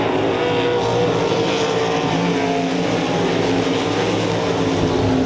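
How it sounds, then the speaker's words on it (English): URSS 305 sprint cars race around RPM Speedway at a heat race, engines roaring loud and steady throughout with no break in the drone. "Side by side going into turn number 1, it was the 97 car of Brian Herbert and the 98 of J.D. Johnson"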